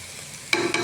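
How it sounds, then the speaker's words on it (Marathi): Spices sizzle in hot oil for Kolhapuri misal: a faint, steady frying hiss, then two sharp, louder bursts as the pan is stirred, all within a second and with no speech. "हे घातलेले आहेत मसाले आपले तेलामध्ये."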